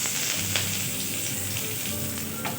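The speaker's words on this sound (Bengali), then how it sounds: "পেঁয়াজটা দিয়ে আমি একটু লাল করে পেঁয়াজটা ভেজে নেব" Chopped medium onion frying in hot mustard oil, a steady close sizzle and crackle with a low bubbling hum, broken by occasional sharper pops and no voices.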